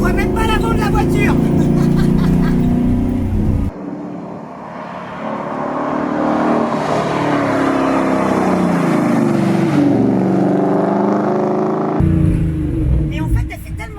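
Mustang GT500 Eleanor engine running loudly, a deep, heavy motor roar that swells and drones steadily at close range, with people talking over it in places.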